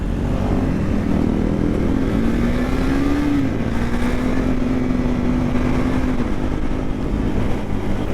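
A KTM RC 390 motorcycle engine runs loud and steady near the listener, holding a sustained drone with slight pitch shifts rather than sharp revs. No one speaks over it.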